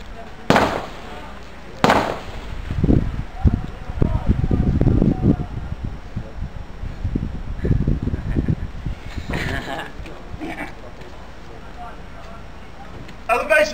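Mortar rounds fired by a crew in Afghanistan: two sharp loud thumps early, then rumbling echoes and further distant booms, with men calling out commands nearby.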